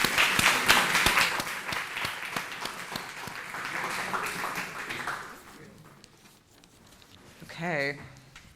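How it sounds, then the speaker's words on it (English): An audience at a talk gives a warm round of applause for the speaker, dense clapping that gradually thins and fades out over about five seconds, followed by quiet room noise and a brief voice. "please all of you a warm applause for Emily"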